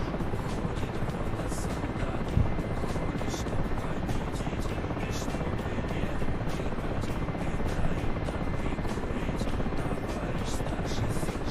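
Steady, continuous helicopter engine and rotor drone from inside a cockpit in the DCS combat flight simulator, loud and unbroken with a dense rumbling wash throughout.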